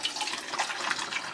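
Warm water poured outdoors in winter for pet rabbits, a steady splashing, trickling stream close by that runs without a break for its whole length.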